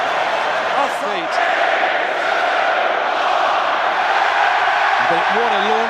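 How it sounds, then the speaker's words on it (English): A dense, loud roar rises from a large stadium crowd at the England v New Zealand rugby union international, sustained throughout with scattered shouts and whoops and a commentator's voice over it. "Crowd celebrating"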